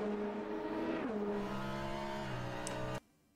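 A race car engine roars in the Le Mans Ultimate racing game, a loud sustained whine that sweeps down in pitch as it shifts, then cuts off abruptly near the end.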